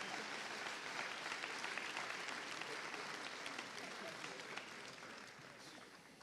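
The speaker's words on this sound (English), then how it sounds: "One more round of applause for them." Sustained applause from an audience at an upper school prize day, steady dense clapping from a large hall crowd that slowly fades over several seconds, with no talking over it.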